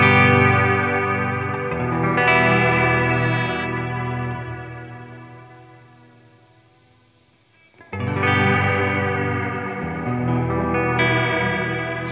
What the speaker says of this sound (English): So you get modulation and reverb, or just distortion.